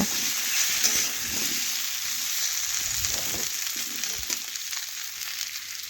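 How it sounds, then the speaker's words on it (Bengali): Pieces of yam frying in hot white oil in a kadai while they are stirred around, making a steady close sizzle with occasional soft stirring knocks. "এখন আলুগুলো নাড়াচাড়া করে একটু ভেজে নেব।"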